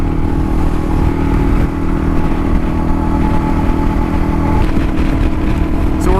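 Kawasaki KLR 650 motorcycle cruising in fifth gear at about 70 mph on the highway, a steady loud drone of single-cylinder engine and wind noise throughout with a slight shift in pitch near the end.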